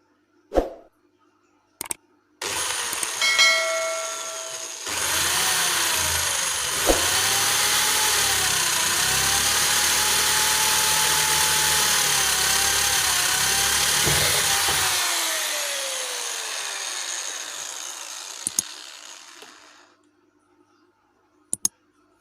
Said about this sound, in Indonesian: dapat menggunakan bor dalam membuat lubang indikator